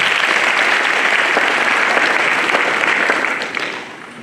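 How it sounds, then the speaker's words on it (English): University first-year students at a welcome address applaud together, dense, loud and sustained, before the clapping fades out toward the end. "Can we clap for ourselves?"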